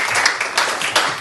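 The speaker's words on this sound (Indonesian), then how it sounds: "Tepuk tangan untuk temannya." Students in a classroom clap for a classmate: a brief, close burst of lively applause lasting only about a second.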